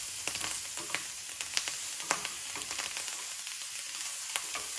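A ham and tomato omelette sizzles and fries steadily in a frying pan, a close, continuous crackle with small pops and occasional stirring scrapes, no voices.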